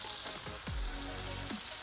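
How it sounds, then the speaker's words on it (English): Vegetables sautéing in a pan for chicken shawarma, a steady soft sizzle with faint crackles throughout. "The vegetables are perfectly sauteed"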